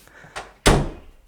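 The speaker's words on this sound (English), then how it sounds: "I'm walking out and I'm closing a door" A studio door swings shut with a single loud, close slam, preceded by a softer knock of the handle.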